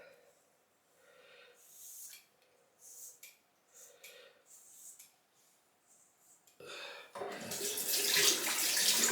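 Water splashing from a running tap while wetting a shaved head, starting as a loud rush near the end after quieter breathing and sniffling, close to the listener.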